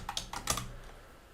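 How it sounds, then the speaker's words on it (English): Several quick keystrokes on a computer keyboard, close and fairly quiet, clicking in an uneven burst as a word is typed into a search box. "Click on this search box and type here hardware"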